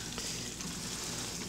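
Hamburger steak sizzles in a frying pan, a dense steady crackle and hiss of searing beef, close and even throughout with no talking.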